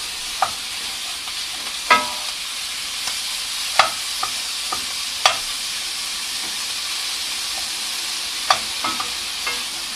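Meat browns in a hot pan as part of a surf-and-turf dish, a steady high sizzle running throughout, broken by sharp scrapes and pops every second or two from a utensil moving it around.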